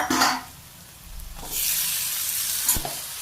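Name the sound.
onion and tomato frying with cumin in a pan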